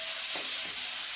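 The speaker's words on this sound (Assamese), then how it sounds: "মই মছলাখিনি তেতিয়ালৈকে ভাজিম যেতিয়ালৈকে মছলাৰ পৰা তেল" Spices and ground cashews fry in hot oil with a bright, steady sizzle and hiss, close and continuous through the brief moment.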